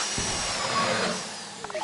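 A steady mechanical whirring drone of a drill running continuously in GTA V, moderately loud, with a few faint clicks near the end.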